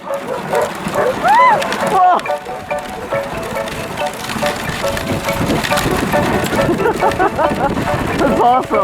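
Sled dogs bark and yip excitedly over steady outdoor winter noise and the rush of a moving dog sled at the Quebec Winter Carnival, with people shouting and talking throughout.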